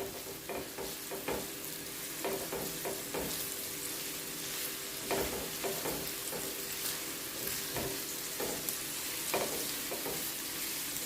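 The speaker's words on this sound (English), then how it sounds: "So just continuously stir this for about a minute or two." Minced beef fries in olive oil in a pan with a continuous sizzle, while frequent scraping knocks from stirring break through throughout. No voices.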